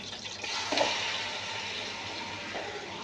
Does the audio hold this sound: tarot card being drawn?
no